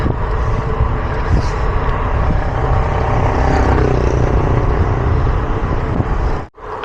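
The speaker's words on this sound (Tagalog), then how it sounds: "Lakas ng hangin" Steady, loud wind rumble buffeting the microphone while cycling, a constant broadband roar with no voices, cutting out briefly near the end.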